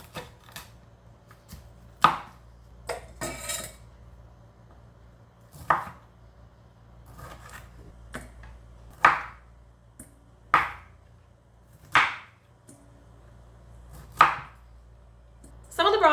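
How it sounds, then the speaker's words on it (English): A knife chops through broccoli on a cutting board in separate sharp thuds, about a dozen spaced irregular strikes, close and clear against a quiet background. "so I just chopped off some of the bad pieces there"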